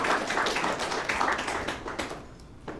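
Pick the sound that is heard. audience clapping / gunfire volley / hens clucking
audience clapping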